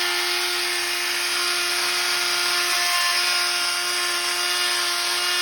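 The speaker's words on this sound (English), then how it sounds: "And then just start sanding." A steady, high-pitched electric whine with a constant buzzing drone, like a power sander running continuously without pause, fairly close.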